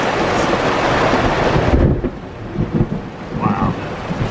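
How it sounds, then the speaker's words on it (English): Thunder rumbles through steady heavy rain in a field, heard from inside a teardrop trailer, a loud sustained roar with a deeper crack near the middle, no talking. "that was a good thunder, good lightning"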